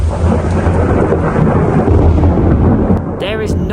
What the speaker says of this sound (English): That is the noise of one of nature's most aggressive sounds, thunder.